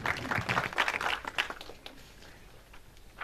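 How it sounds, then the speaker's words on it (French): A brief burst of applause from a small conference audience, clapping dense at first and then fading out over a few seconds. "Merci Laurent Pateau, je pense qu'on peut l'applaudir"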